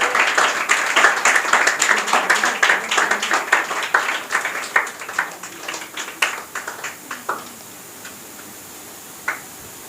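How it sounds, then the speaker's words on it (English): A small group at an English academy's confidence-building program claps for a third-prize winner, crisp distinct claps that start brisk and together, then thin out to a few scattered hands and one last clap. "Clap for him."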